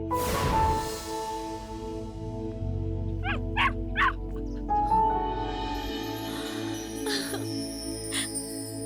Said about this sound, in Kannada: ಹೇ ಪಪ್ಪಿ